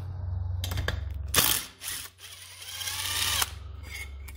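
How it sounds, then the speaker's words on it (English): A ratchet wrench removing long bolts with washers on an Arctic Cat ZR 800 snowmobile during preseason maintenance: clicking ratchet strokes in short bursts with a brief whirring spin, close and fairly quiet. "let's go ahead and remove half of our bolts"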